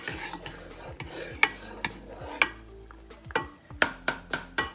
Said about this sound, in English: so let's mix them together. Got my honey and soy sauce